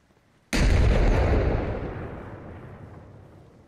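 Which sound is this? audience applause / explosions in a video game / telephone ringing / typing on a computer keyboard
explosions in a video game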